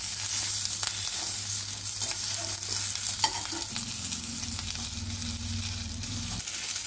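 Tomatoes fry in a pan with a steady sizzle for radish chutney, with scraping and stirring as they are turned, close and continuous with no talk.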